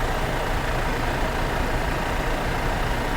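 A Toyota Majesty van engine idles nearby, running normally, a steady, dense low rumble with no changes in pace throughout.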